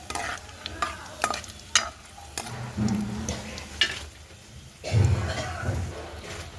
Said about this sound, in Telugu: ఉల్లిపాయలు పచ్చిమిర్చి ఫ్రై చేసుకుంది